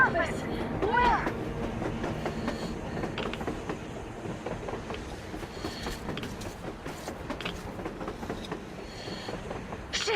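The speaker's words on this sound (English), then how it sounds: "A train! A damn train on the surface!" A train rumbles and clatters in the Metro Exodus video game, a steady moderate rolling noise with clicking wheel sounds, heard under game talk.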